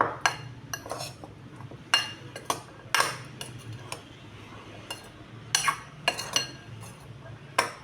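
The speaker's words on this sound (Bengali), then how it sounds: "এবার এটাকে ভালো করে মিশিয়ে নেব" A spoon clinks and scrapes against a bowl while potato and chana dal tikki mixture with cardamom seeds and black pepper is stirred, close, soft scraping broken by irregular sharp taps.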